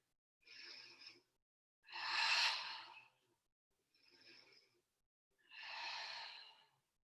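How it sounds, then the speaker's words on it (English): Slow, deep breathing during a vinyasa yoga class, four long soft breaths alternating between shorter and fuller ones, close and quiet with silence between them. "Track your breath, breathe into your belly center."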